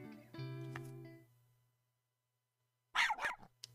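A game dog gives a couple of close, harmonic barks with a whimpering tail, then silence, followed by a short burst of noisier yapping near the end.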